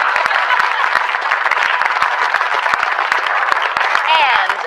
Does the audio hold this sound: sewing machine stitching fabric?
no